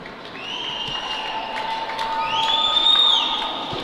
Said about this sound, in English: And that will get a round of applause.